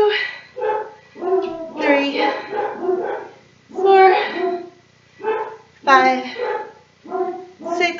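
Several dogs bark and yip in repeated short bursts close by during a home workout, with a woman counting aloud between and over the barks.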